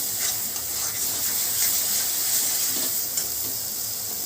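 Masala with sugar stir-fried in a pan for chana masala: a loud, dense, continuous hissing sizzle close up, with faint soft stirring movements under it and no talk.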